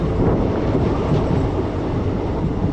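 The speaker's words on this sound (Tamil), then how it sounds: "கடலுக்கு பக்கத்தில் நம்ம ட்ரெயின் போகுது" A passenger train on the Madurai–Rameshwaram line runs alongside the sea, its steady, close rumble of wheels and carriage noise filling the moment without a break.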